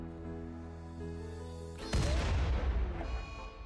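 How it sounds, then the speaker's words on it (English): Rocket launcher explosions in the video game RimWorld: after a steady droning bed, a single loud, heavy boom erupts and rumbles, fading slowly over a couple of seconds. "Oh, I didn't check for rocket launchers."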